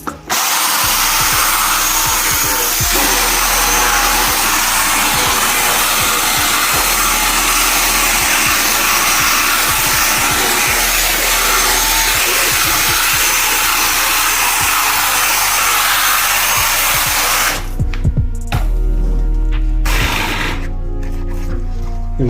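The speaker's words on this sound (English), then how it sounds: "And we'll agitate it with a drill." A power drill agitating shampoo into Audi A4 B8.5 seat fabric whines loudly and continuously with a scrubbing undertone for most of the time, then cuts out near the end, leaving brief quieter rustling.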